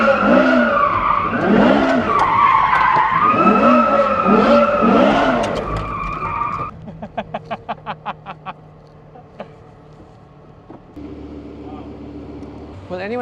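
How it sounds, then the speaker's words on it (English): A Porsche Carrera GT does donuts in a parking lot, its tires squealing in long wavering howls over the engine note, then a quieter stretch with rapid clicks and a low rumble. People talk over parts of it. "Will anyone complain if we're doing donuts here?"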